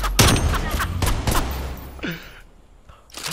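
Gunfire in Black Ops Cold War: several loud, sharp shots in quick bursts up close, then a quieter stretch with a short whoosh, and a last burst of shots at the end.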